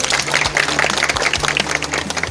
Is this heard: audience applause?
yes